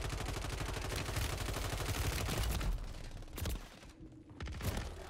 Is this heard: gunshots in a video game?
yes